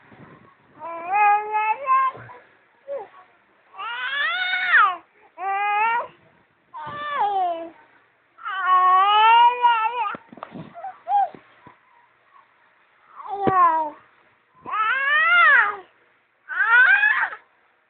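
A pet cat meows repeatedly in a home, about nine drawn-out, wavering meows at close range with short pauses between them, some sounding plaintive and almost like a crying infant.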